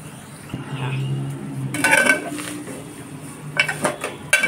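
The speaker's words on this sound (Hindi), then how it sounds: "अब हम उसमें डालेंगे सूखा सेव।" Dry vermicelli stirred in a pan with ghee, almonds and pistachios for Eid sukhi seviyan, with scraping metal spoon clinks and clatter against the cookware, close and fairly loud.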